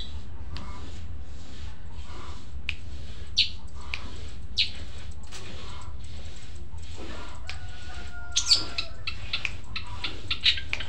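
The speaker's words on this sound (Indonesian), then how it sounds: "Ini burung yang aku beli kemarin itu pakai bumbung teman-teman" A captive long-tailed shrike makes sharp, scattered chirps and short calls in a quiet room, with soft ticking and rustling between the brief bursts.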